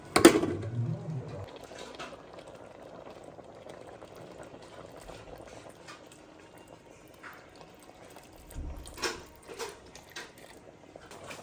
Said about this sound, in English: I just added rice to my coconut milk, which was already boiling.